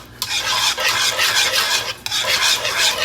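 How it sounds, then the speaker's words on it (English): A whisk scrapes steadily around a pan of cheese sauce made with white cheddar and mascarpone, a continuous close rasping stir with brief pauses and no talking. "And we're going to just whisk this all in."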